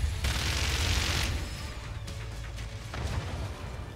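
Minigun fire roars in the artillery strategy game Forts, a loud, dense burst of rapid shots over a deep rumble. It eases briefly, then surges again near the end.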